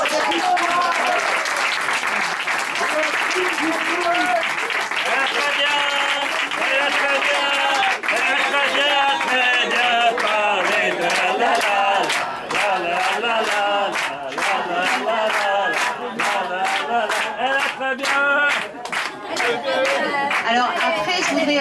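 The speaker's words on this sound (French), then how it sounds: "Donc je voudrais tous que vous vous applaudissiez." An audience at a wine producer's event for a muscat winery in Mireval claps loudly and steadily, the applause swelling with some cheers and continuing throughout.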